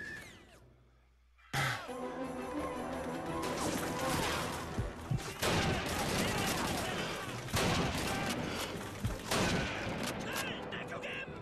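Sharp sniper rifle shots and surrounding gunfire in the World War II shooter Call of Duty 2, city hall battle; a quiet opening gives way to dense, loud cracking shots and crashes with a voice talking over the din.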